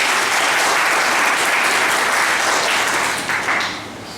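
A large audience bursts into loud, sustained applause to welcome newcomers at a motivational talk, dense clapping filling the whole stretch and easing slightly toward the end.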